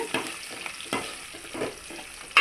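Garlic cloves and curry leaves frying in hot oil, a continuous crackling sizzle broken by several sharp stirring knocks against the pan, close and without talk.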